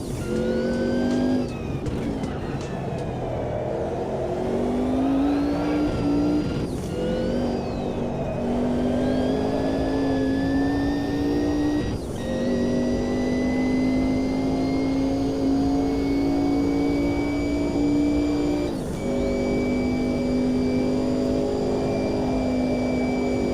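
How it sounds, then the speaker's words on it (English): Sim racing car engine holding a steady high drone while four-wheel drifting, pitch rising and sliding with throttle and occasional shifts, loud and continuous throughout with no talk. "Nice, even four-wheel drift."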